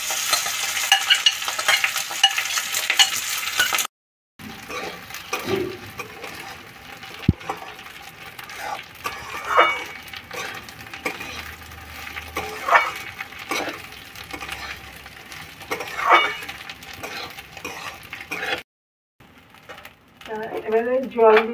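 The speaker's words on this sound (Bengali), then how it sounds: "ওই ঘিয়ের মধ্যে গরম মশলাটা ফোড়ন দিয়ে দিলাম। এবারে চালটা দিয়ে দিলাম।" Rice sizzles in ghee with garam masala tempering, a crackly frying hiss with stirring scrapes and occasional louder bursts, broken by short silent gaps, with a voice speaking over parts of it.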